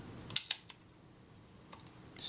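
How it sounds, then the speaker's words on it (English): Shutter of a Kodak Retina IIIS camera being cocked: a couple of sharp close mechanical clicks, followed by a softer click and faint later ticks in a quiet room. "Cock the shutter."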